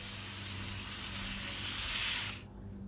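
A Bachmann O gauge model locomotive on a test run gives a steady, fairly quiet whirring hum with broad hiss, running evenly and then cutting off sharply near the end; no talking.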